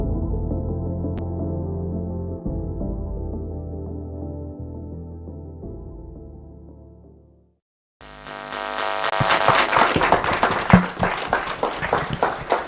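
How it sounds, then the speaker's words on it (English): A farmers' federation annual general meeting audience breaks into loud, dense clapping after a stretch of steady tonal sound and a brief pause, the applause rising in uneven bursts. "We can clap better for sure."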